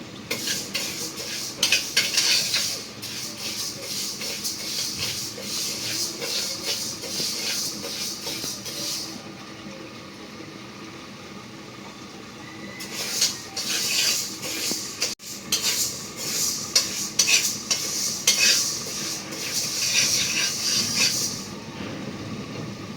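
Mung dal dry-roasting in an oil-free pan on a village stove, with steady scraping and stirring, light rattling of lentils against the pan and clinks of utensils, continuing through the clip with a quieter stretch in the middle.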